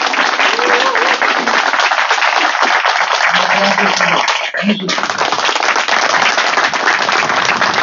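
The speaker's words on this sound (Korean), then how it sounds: "뜨거운 박수 부탁드리겠습니다" Audience applause at a ROTC association's hero monument unveiling ceremony at an army student military school, loud dense clapping close by and continuous throughout, with voices briefly audible in the middle.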